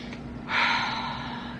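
A single deep inhaled breath, close and audible, swelling briefly then trailing off into a steady exhale.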